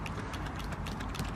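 Cheap plastic hand-pump plant sprayer being pumped, a quick run of close, rhythmic mechanical clicks and squeaks.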